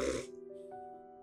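Someone imitates nasal snoring caused by a blocked nose with a snorting inhale, then a thin, faint, droning nasal tone.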